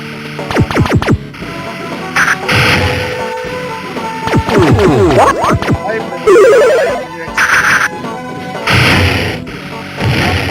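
Arcade video game bombing action: a loud, chaotic mix of electronic explosion blasts, descending and sweeping synth tones and ringing beeps in rapid bursts, with occasional voices behind.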